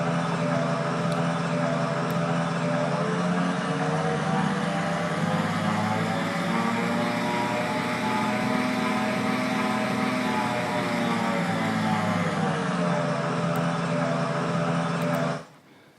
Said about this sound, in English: So just quite simply changing the pitch, and that's sort of affecting the throttle sound there.